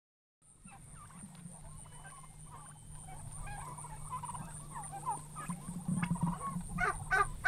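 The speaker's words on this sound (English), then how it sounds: "where the turkeys and other animals roam" Turkeys and other farm animals call on a small, breezy Tennessee farm, a scattered chorus of gobbling and honking cries at middle distance over a steady airy background, growing louder and busier toward the end.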